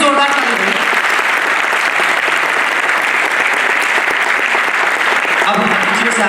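An audience at a national drama festival breaks into loud, sustained applause, a dense close wall of clapping that fills the whole stretch, with a voice heard briefly at the start and end.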